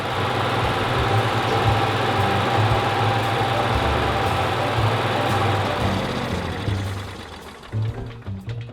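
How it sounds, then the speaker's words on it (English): An RV generator drones loud and steady nearby, then loses power after being unplugged while running and sputters unevenly near the end as it dies out. "if you unplug it while it's running and it dies"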